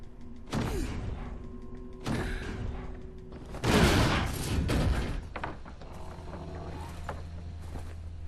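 Heavy bangs strike a door in the God of War video game, several loud booming thuds spaced apart, the biggest impact in the middle, followed by a lingering rumbling echo.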